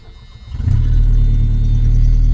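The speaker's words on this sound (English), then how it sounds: "It's loud because the muffler is shot." A 1984 Dodge Daytona Turbo Z engine with a blown-out muffler fires up and runs loud, a deep throbbing exhaust rumble rising sharply within the first second and then holding steady, close and alone.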